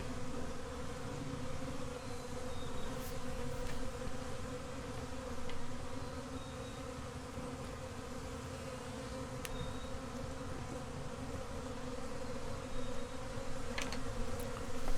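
Honey bees buzz steadily around a top-bar hive, a dense, continuous drone close by that holds level for the whole stretch with no voices.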